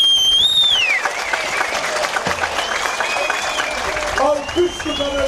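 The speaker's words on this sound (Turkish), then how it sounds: "Ben Ataspor'un aslanlarına sizlerden şöyle coşkulu bir alkış istiyorum" Enthusiastic crowd applause at the opening ceremony of the historic Kırkpınar oil wrestling festival in Edirne, a dense outdoor clapping roar with whistles and crowd noise and voices throughout.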